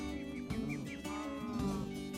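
Cattle mooing in the Minecraft video game, a couple of short low moos close by against steady background sound, with no talking.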